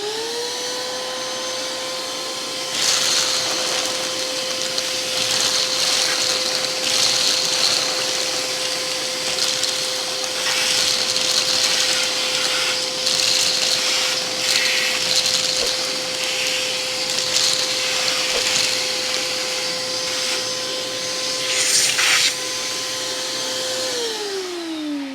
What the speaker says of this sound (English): I've got some dog food here that I'm going to vacuum up.